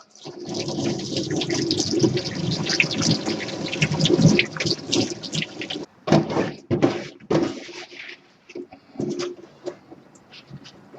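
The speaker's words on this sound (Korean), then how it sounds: "깨끗하게 손질한 무는 한번 깨끗이 또 씻어 주세요" Trimmed radish rinsed under a running tap in a kitchen sink, a steady broadband splash of water for about six seconds, then breaking into short bursts and drips as the flow is handled, close and fairly loud with no talk.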